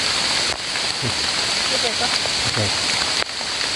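Steady rain pours down outdoors during mushroom gathering, a dense constant hiss heard up close, while someone talks intermittently over it and a couple of brief bumps break the wash.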